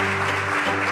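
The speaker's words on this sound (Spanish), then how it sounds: "Un aplauso también para David" Audience applause in a studio for a radio program's guest: a dense, steady wash of clapping filling the whole second, with a faint hum beneath.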